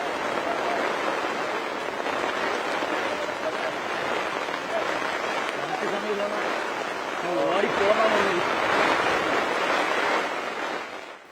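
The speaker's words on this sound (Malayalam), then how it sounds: "മഴ തിമിർത്തു പെയ്തു." Heavy rain pours down on an outdoor political campaign rally in Palakkad, a dense, steady hiss of water lasting the whole stretch while a voice speaks over it.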